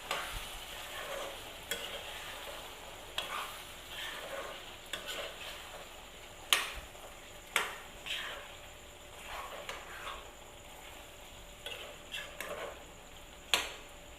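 Chicken curry with meat masala is stirred in a pan, soft spoon scrapes recurring every second or two over a faint, steady sizzle, fairly quiet and with no one talking.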